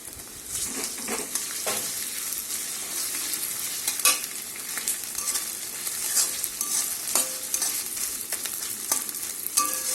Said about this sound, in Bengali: পেঁয়াজ রসুনের সাথে ভালো করে মিশিয়ে আর একটু কষিয়ে নেব